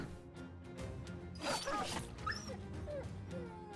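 A dog in the Battle Brothers video game yelps and whimpers in a few short, sharp bursts over low game background sound.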